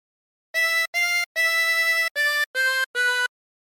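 A harmonica plays a short phrase, six clear sustained reedy notes, one held longer, with brief breaths between, close and alone in silence.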